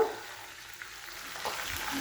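Fish sizzles gently in hot oil, a soft steady crackle with a few small pops, heard close and alone.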